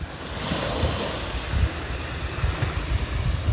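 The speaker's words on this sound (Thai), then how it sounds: "ชายหาดค่อนข้างสงบ ช่วงเช้าๆนะครับ คลื่นตรงนี้ไม่แรงนะครับ" Gentle morning sea waves wash steadily onto a calm beach at Na Jomtien, Sattahip, Chonburi, a continuous soft surf roll with some wind across the microphone.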